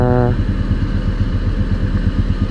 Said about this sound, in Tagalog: Pero maingay ba motor ko? Parang di naman.